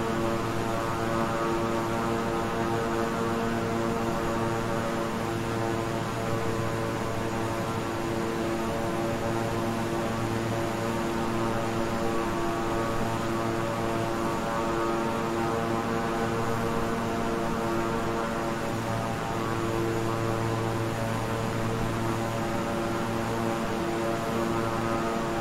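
Cockpit engine drone of a twin-engine King Air 350i in Microsoft Flight Simulator, with turboprops throttled back to low power, giving a steady, continuous hum with a tonal whine and faint slow throb throughout, no voices.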